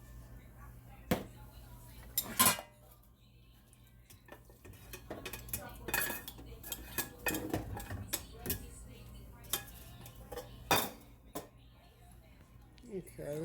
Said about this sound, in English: now I've got my shrimp in there, and all I need to do now is just mix